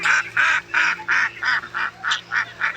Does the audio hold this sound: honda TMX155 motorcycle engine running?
no